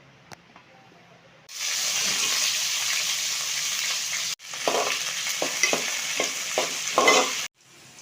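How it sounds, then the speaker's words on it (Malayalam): Okra hits hot coconut oil in a pan with a sudden loud sizzle that hisses steadily, cut briefly by a stir, then continues with clattering spoon stirs before stopping abruptly. "ചട്ടി ഒന്ന് ചൂടായിട്ട് നമുക്ക് ഇതോട്ട് കുറച്ച് വെളിച്ചെണ്ണ വെച്ചുകൊടുക്കാം വെണ്ടയ്ക്ക് ഇട്ട് കൊടുക്കാൻ പോണ്"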